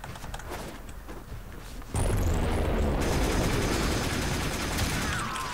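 Boltor Prime rifle in the Warframe video game opens up after a quieter ambient stretch, firing a loud, continuous burst of rapid automatic shots that runs to the end with no talking.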